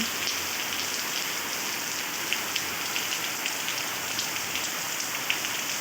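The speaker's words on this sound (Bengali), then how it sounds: "আস্তে আস্তে আরও জোর হচ্ছে বৃষ্টিটা" Rain pours steadily onto surfaces, a dense continuous hiss with scattered sharper drop taps throughout, close and even, with no voices.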